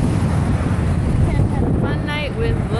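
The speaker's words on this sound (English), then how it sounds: "It was too windy, I apologize." Wind blowing on the microphone outdoors, a constant loud low-frequency rumble and buffeting that runs through the whole stretch while a voice speaks over it.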